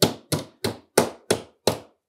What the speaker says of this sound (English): I like to use a hammer